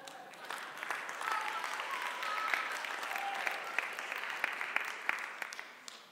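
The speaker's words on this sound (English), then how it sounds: "Let's give him a round of applause." An audience in a hall applauds a volunteer called up during a church talk: a dense, steady wash of many hands clapping, sustained and fairly near, with a few sharper claps standing out and a faint voice underneath.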